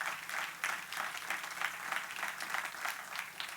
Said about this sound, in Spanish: Den un aplauso al Señor en esta hora.